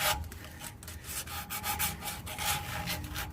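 Rust is scrubbed off the exhaust clamps of a Lexus RX 350 with a quick back-and-forth rasping rub, close and fairly quiet, in steady repeated strokes with no talk.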